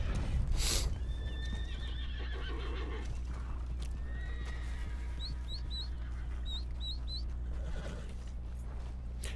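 In the video game Red Dead Online, a horse lets out a long, loud whinny over a low engine-like drone, followed by softer chirping and shuffling sounds, with no talking.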